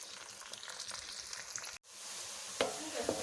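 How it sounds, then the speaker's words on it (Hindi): Onions brown in half a cup of hot oil, making a bright, continuous sizzle that cuts out for an instant and then returns with a couple of sharp crackles. "हाफ कप ऑयल डाल के मैं उसको अभी ब्राउन कर लूँगी।"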